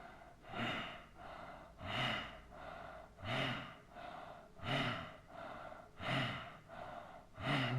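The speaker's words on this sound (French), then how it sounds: "On pourra y faire des souffles, des soufflets par exemple." Forceful bellows breathing during a seated yoga twist, Marichyasana: a steady series of sharp, evenly paced breaths pumping in and out, close and fairly quiet, with no talking.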